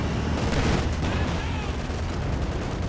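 Dense gunfire and machine-gun bursts with heavy explosive booms from a Company of Heroes 2 battle, an ISU combining with a Sturmovik-style strafing run, loud and continuous throughout with rumbling low-end impacts.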